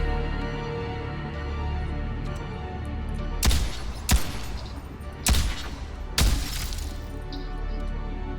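Four sharp, loud gunshots from a firearm in the video game Ghost in the Shell Online ring out at uneven intervals, each with a brief crack and tail, over a steady bed of game background noise.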